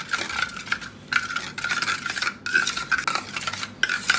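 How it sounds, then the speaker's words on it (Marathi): A spoon scrapes and stirs rhythmically through a puree for chicken pulao as salt is mixed in. The repeated strokes are close and clear, with short pauses between them. "ते पण हलवून घेऊया एकदम."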